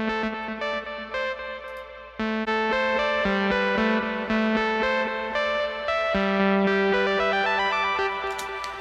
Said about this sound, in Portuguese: Tô vindo aqui com overdrive.